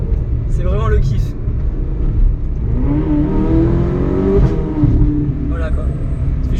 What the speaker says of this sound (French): là en mode cabriolet, je peux vous dire que le son du V8, c'est vraiment le kiff